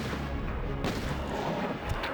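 Rapid gunfire in Resident Evil 2 (1998) aimed at William Birkin in his second form, a dense, continuous barrage of booming shots with a sharp burst near the middle, loud and steady with no talk.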